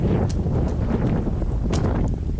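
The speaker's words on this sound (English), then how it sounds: "So windy." Strong wind roars at sea in Sea of Thieves, a steady blustery rush with gusts and a few brighter splashy bursts, loud and continuous without speech.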